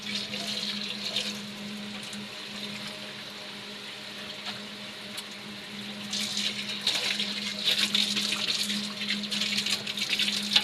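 Cleaned kitchen utensils rinsed under a running tap, with a continuous stream of water and occasional splashes and clinks that grow busier toward the end.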